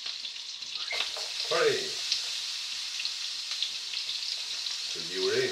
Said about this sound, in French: vous faites revenir vos saucisses, vous avez de la place sur votre poêle